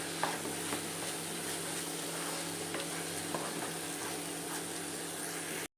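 Prawn curry with tomato stirred in an open pan over low flame, a steady broad sizzle with soft scraping strokes of the spoon throughout, fairly quiet and close, no voices.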